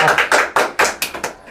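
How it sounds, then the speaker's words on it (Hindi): Students in a class of girls give a short round of applause: about seven sharp, evenly spaced hand claps, close and fairly loud, with no talking over them. "तालियां बजा सकती हो"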